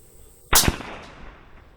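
A single sharp, loud rifle shot from a .308 Gen II during hunting ammunition testing cracks out at close range and is followed by a brief fading echo against quiet surroundings.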